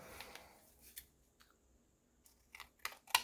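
Scissors trimming a small paper gift tag: a few faint, quiet snips scattered over a few seconds in a hushed room, with a crisper pair of cuts near the end.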